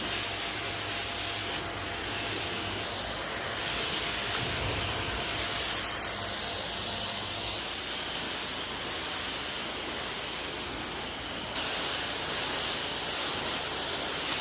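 A pressure washer sprays high-pressure water onto stonework, making a continuous loud hissing rush that stays close and steady throughout, with small shifts in tone as the spray moves across the surface.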